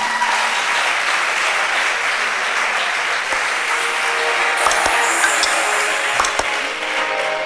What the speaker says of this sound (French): je demande de faire un maximum d'applaudissements